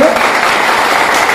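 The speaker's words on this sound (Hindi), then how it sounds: "उनके लिए ताली जोरदार होनी चाहिए" Audience applause at a business plan seminar, a dense steady wash of many hands clapping filling the hall for the whole moment.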